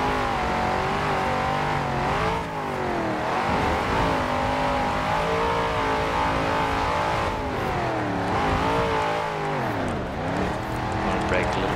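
Engine of a stock 1969 Dodge Charger Daytona in Forza Horizon 4, a loud, steady V8 drone that rises and dips with gear changes and throttle, with the pitch falling sharply around braking, running continuously throughout.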